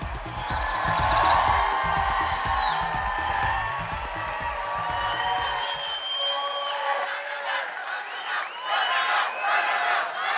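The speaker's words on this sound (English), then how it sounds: "Let's have a round of applause again for our 89 contestants." The audience at the 2011 Miss Universe preliminary competition applauds and cheers for the 89 pageant contestants, a loud, sustained crowd roar with whoops and shouts that swells and fades over music.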